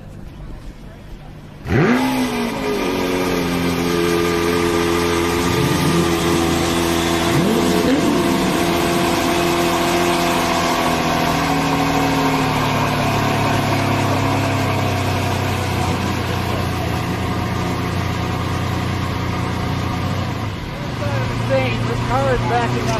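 A Lamborghini Veneno supercar backing up: the engine catches and settles into a loud, steady rumble that holds for about twenty seconds, with voices talking over it.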